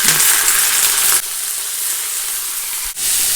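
Curry leaves, green chilies and eggplant frying hard in a pan for chutney, a loud, dense continuous sizzle close up with a couple of brief dips as the mixture is stirred.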